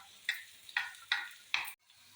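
Onions sizzle in a hot pan as they brown for a prawn curry, with four short bursts of frying hiss as they are stirred, separated by quieter gaps, close and fairly soft.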